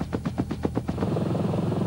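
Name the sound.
Mil Mi-4 helicopter in flight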